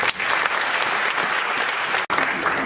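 Crowd at an opposition party convention applauds in a loud, continuous roar of clapping with a brief dropout near the end.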